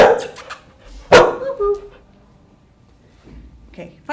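A dog barks during a training session, with a few sharp barks and yips, one loud and close, mixed with a person speaking in a quiet indoor space.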